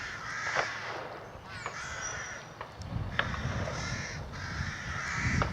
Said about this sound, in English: Rooks are very noisy. Obviously got young up there.